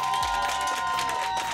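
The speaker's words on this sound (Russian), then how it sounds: "прямо сейчас нам необходимо отрепетировать аплодисменты" Audience members at a live Golden Microphone concert on Russian Radio cheer and clap together in a short, dense burst of crowd noise.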